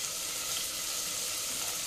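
A paste of ground mint, coriander and green chili sizzles in a hot pan, a continuous loud hiss that fills the short stretch on its own.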